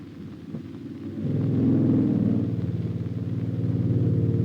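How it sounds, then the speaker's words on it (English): A US Army PATA plenum air tread amphibious vehicle runs nearby, a heavy rumbling engine drone that swells louder after a second and then holds steady with a rough, clattering texture. "Called PATA, for PLENUM Air Tread Amphibious, it operates on a unique principle which provides swift, sure-footed transportation"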